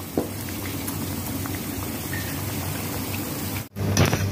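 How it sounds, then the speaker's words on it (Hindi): Beef pieces coated in gram flour batter deep-fry in hot oil over medium heat, giving a dense, continuous close-up bubbling and crackle that briefly cuts out near the end. "आयल गर्म हो गया, अब मैं एक एक बोटी को इस तरह शामिल करूँगी।"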